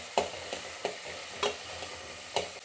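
Tomatoes fry in a pan with garlic, a low steady sizzle punctuated by a few sharp scrapes and knocks of a stirring spoon at irregular intervals.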